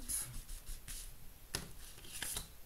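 Tarot cards being handled and drawn for a Sagittarius reading: soft close shuffling and sliding of cards with a few sharper snaps, no voices.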